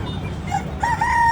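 Chickens in a crowded chicken shop in Azara give a few short clucks and a brief crowing call, moderately loud over a low background hum.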